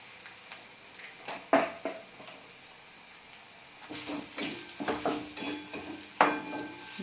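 Potatoes and ground spices, coriander and cumin, sauté in a pan for egg and potato curry, a soft sizzle broken by repeated scraping stirs and a few sharp clinks of the utensil on the pan.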